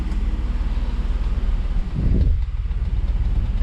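A 3.8L Jeep Wrangler engine idles smoothly after a PCV valve replacement, a steady low rumble heard nearby with a brief muffled bump partway through and no talking.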